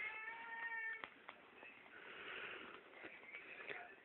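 A lazy pet cat being prodded to get up meows in a few short, close, fairly loud calls, with a sharp sniff or snort between them.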